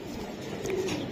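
A male racing pigeon gives a short, low coo close by, rising briefly over a steady hiss of background noise.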